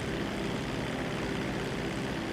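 A propeller airplane flies in GTA 5 Online, a steady close engine drone with a constant buzzing hum and no voices.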